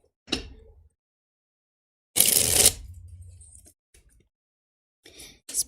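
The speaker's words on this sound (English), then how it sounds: "Let me actually do a shuffle here again." A deck of tarot cards is shuffled in short bursts: a brief riffle, a louder crisp flutter of cards lasting about a second, then scattered soft taps and another short shuffle.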